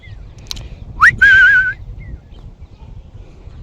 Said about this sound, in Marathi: त्याला शिट्टी वाजवतो कसं येते बघा